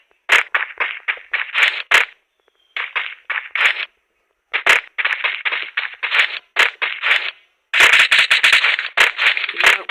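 Gunfire in a shooting video game: rapid automatic bursts come in several volleys separated by short silences, each burst a dense string of crisp, loud cracks, with a longer, heavier volley near the end and no voices.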